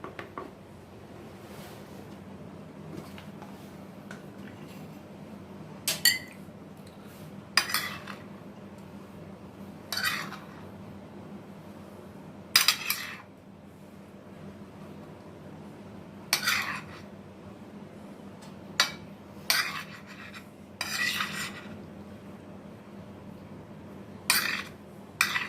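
Onion is spooned into a food processor jar: a series of scattered, close clinks and scrapes of a spoon against the jar over a quiet kitchen hum, coming in irregular bursts with pauses between them.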